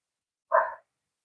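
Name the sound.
dog barking in the background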